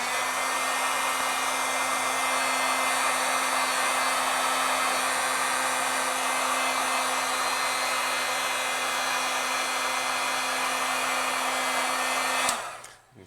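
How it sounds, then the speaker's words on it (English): A heat tool blows steadily to heat-set ink on a stamped card, a constant loud whooshing drone with a steady whine that runs unbroken before cutting off abruptly at the end. "Let's go ahead and heat set this a little bit"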